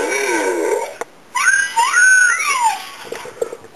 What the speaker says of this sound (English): I can make the robot do stuff like whistle